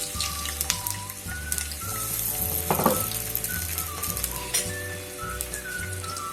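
Sliced onions frying in hot oil in a pan for matar pulao: a continuous bright sizzle with crackling pops, a steady low hum and tonal background music beneath, with no talking.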